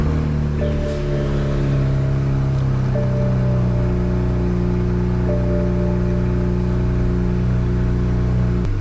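A BMW E92 335is idles steadily after starting up, its low engine drone loud, close and constant, with a slight rise in pitch near the end.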